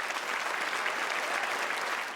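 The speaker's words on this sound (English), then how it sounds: "Let's give Chris a round of applause." A conference audience gives a steady, full round of applause for a guest at a food-as-medicine talk, the clapping even and sustained from start to finish without voices.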